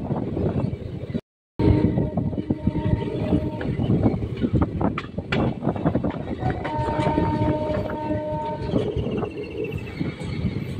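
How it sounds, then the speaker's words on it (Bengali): Passenger train on the Katwa to Ahmadpur line pulling out of Komorpur station, loud continuous rumble with rhythmic clatter of wheels on rail joints, one brief dropout near the start, heard from on board without talk. "ট্রেন এখন কোমরপুর স্টেশন ছেড়ে বেরিয়ে যাচ্ছে"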